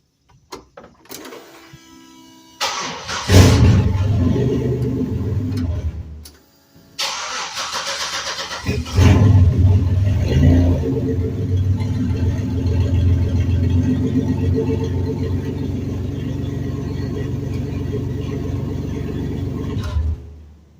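A mid-engine turbo V6 in a Geo Metro cranks and fires up, stumbles and cuts out, then restarts and settles into a loud, steady idle, close by and alone.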